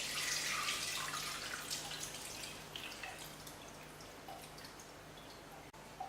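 Liquid from a European Christmas turkey dish drains through a kitchen strainer in a faint, uneven trickle with scattered drips, quiet throughout and tapering slightly toward the end.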